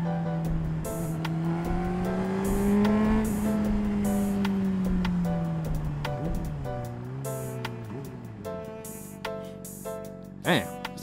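Road traffic heard from a Honda CBR 600RR motorcycle: a continuous engine drone rises and falls in pitch, with wind noise and passing vehicles around it, moderately loud throughout.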